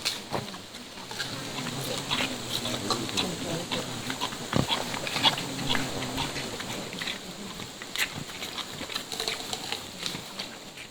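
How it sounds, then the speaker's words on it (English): Bornean bearded pigs root about by a jungle riverbank in Borneo, producing scattered snuffling grunts and sharp rustling clicks over a constant hiss of insects and forest noise. "These long-nosed boars are Bornean bearded pigs"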